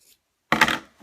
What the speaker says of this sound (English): So I'm just going to cut the corners right like that.